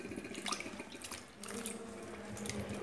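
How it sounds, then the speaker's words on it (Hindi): Dates being washed by hand in a bowl of salted water, with steady splashing and trickling close by, brief clinks and sloshes repeating throughout and no talk. "इसके अंदर मैंने पानी लिया है और पानी में 1 चम्मच नमक डाला है, अभी मैं खजूर डालूंगी इसके अंदर"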